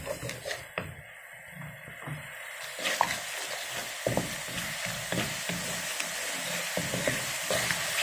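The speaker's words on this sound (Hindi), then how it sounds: "अब इसको इतना भूनें कि ये बिल्कुल यकजान हो जाए हर चीज़।" Kadhi masala frying in a pan with a splash of water, giving a continuous soft sizzle broken by irregular scrapes and stirring knocks, close but moderately quiet, with no talking.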